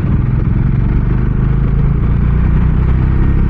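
Heavy traffic on a Mumbai road, with a dense, loud, steady engine rumble from cars and motorbikes dominated by low-pitched drone, heard close and continuous without any voices.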